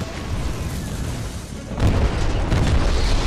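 Titan power shot firing and exploding in Titanfall 2, a steady loud roaring blast that surges sharply louder about halfway through and holds as a heavy rumbling boom.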